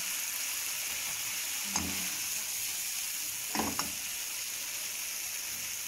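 Egg and tomato omelette frying in a pan for breakfast, a steady close sizzle with a couple of brief scraping clatters from a utensil, no voices.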